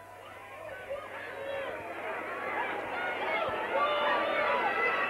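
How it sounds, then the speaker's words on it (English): Roar of a rugby league crowd at a York v Rochdale match shouting for a drop goal, a broad continuous swell that grows gradually louder, with a commentator talking over it. "Most of the crowd are shouting drop goal"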